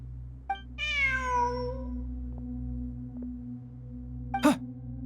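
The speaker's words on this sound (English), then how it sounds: "Look, a cat." A single cat in Genshin Impact lets out one clear, drawn-out meow against a quiet, humming game ambience, followed by a few soft clicks and a brief sharp chirp near the end.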